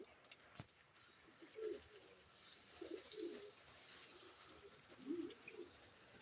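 Soft cooing of rain-soaked pigeons repeats in low, throaty bursts over a faint, steady background hiss, with occasional brief chirps.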